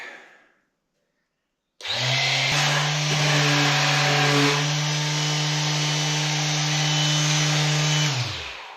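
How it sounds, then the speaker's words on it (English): Power sander smoothing rough torn fibers off boards for a rustic wood accent wall, a loud, steady close-up whine with a low hum, running continuously for about seven seconds before winding down. "Now what we do want to do is sand all the little tearing bits off of here."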